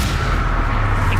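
A Confringo blasting curse explodes in a Harry Potter video game: a loud, close, deep boom with a rumbling roar that fills the whole short moment.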